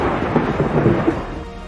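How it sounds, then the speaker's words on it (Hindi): Thunder from a lightning strike hitting a house near a reservoir pond on a Thursday evening in Jamtara, Jharkhand: a continuous low, rolling rumble with soft rain-like hiss, steady and moderately loud, no voices. "तेज आवाज और बिजली की कड़क से पूरा मोहल्ला सहम गया।"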